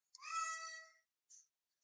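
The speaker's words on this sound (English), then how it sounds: "that's my cat." A single close cat meow, clear and drawn out, followed by a short fainter second cry.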